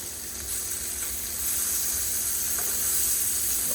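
Blackened fish pieces fry in a hot pan with a continuous bright sizzle and hiss, close and steady, growing slightly louder toward the end, with no talking.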